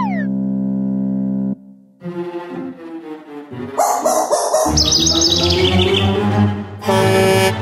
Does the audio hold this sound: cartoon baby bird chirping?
yes